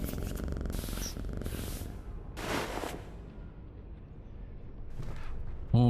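A cat in The Killing Stone purrs while being petted, a steady low rumbling throughout at close range, broken by a couple of brief soft bursts.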